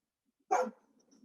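A pet dog barks at the neighbors, giving one sharp, close bark that fades quickly into a little background noise.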